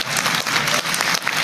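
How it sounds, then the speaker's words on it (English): A crowd at a live Clash of Clans event roars and claps in a loud, dense burst of cheering that fills the room. "Man, the crowd is so loud,"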